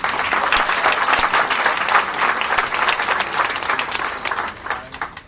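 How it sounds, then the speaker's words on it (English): An audience at a welcome and orientation program applauds Mr. Juan Daniel, a dense, steady burst of many hands clapping that fades out after about five seconds. "I would like to everybody here give Mr."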